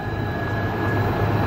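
Long freight train of 135 wagons climbing a grade on an export rail corridor, heard as a steady low rumble with a sustained mechanical hum, close and continuous, with no voices.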